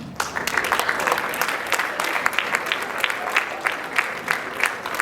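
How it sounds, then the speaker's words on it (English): Audience applauding student leaders at an announcement ceremony, a dense sustained wave of clapping from a crowd, fairly close, running the whole stretch with a little background chatter. "Please, a round of applause for that, please"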